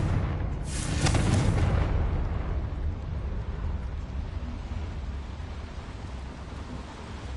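A Confringo blasting spell in Hogwarts Legacy explodes with a loud, bright burst near the start, then a heavy rumbling boom that slowly decays into a low, lingering roar.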